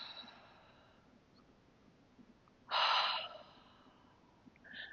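A single audible exhale during a yoga practice, a soft breathy rush of air near the middle, set against a quiet background with faint breath sounds before and after; no talking.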